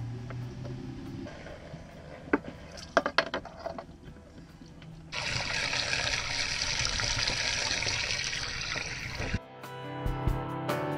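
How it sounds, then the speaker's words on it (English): A hose sprays water aboard a sailing vessel, with a steady loud hiss that starts after a few seconds of clattering and splashing, runs for about four seconds and cuts off abruptly, followed by quieter knocks. "I'll spray this out for a second"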